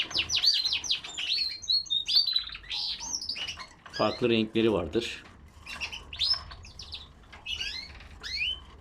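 Several Padovan frilled canaries chirp and trill close by in quick, busy bursts, with a voice speaking briefly among the birdsong.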